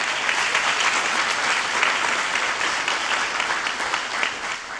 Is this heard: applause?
yes